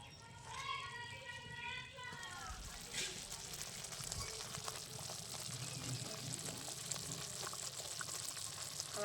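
Cream simmers down into homemade ghee in a pan with a soft, continuous bubbling sizzle, while children's voices chatter over it early on.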